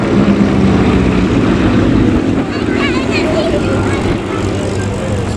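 A twin-engine aircraft with Pratt & Whitney 985 radial engines, 500 horsepower each, at the Duxford Flying Legends airshow, makes a loud, continuous propeller drone while a voice talks over it.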